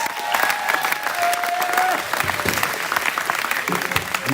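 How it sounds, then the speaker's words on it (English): An audience at a men's college gymnastics senior night breaks into steady applause, dense overlapping claps with a few whistles and cheers early on, continuing evenly throughout. "Let's give these seniors a round of applause."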